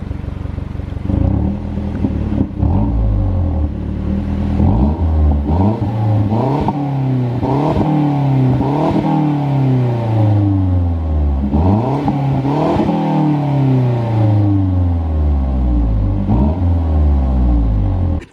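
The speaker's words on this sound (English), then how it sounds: "What you guys heard on the MazdaSpeed 3 there, in that little exhaust clip at the beginning, the sound without the Resonator" A MazdaSpeed 3 with its exhaust resonator deleted revs loudly and repeatedly, the engine note climbing and dropping through several pulls and gear changes, close up with a raspy, rumbling tone and no talking.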